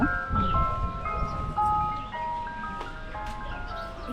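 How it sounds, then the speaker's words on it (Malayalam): An ice cream truck plays its tinkling electronic melody near Chamarel, Mauritius, a bright repeating tune that runs steadily and fairly loud over low outdoor background rumble, with no one talking. "ഒരു മ്യൂസിക് കേട്ടോ ഇത് ഐസ്ക്രീം ഇങ്ങനെ വിൽക്കാൻ വരുന്ന ഒരു ഒരു ഒരു ട്രക്ക് പോലുണ്ട് അതിൻ്റെ ഒരു സൗണ്ടാണ്"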